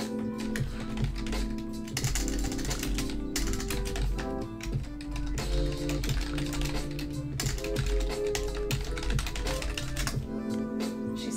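Rapid, continuous typing on a computer keyboard, with dense clicking keystrokes close to the microphone over a low background hum, steady with brief pauses.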